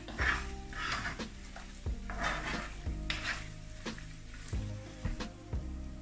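Coconut milk sizzles steadily in a pan as its oil separates out, a soft continuous crackle broken by repeated scraping knocks of a spoon stirring against the metal.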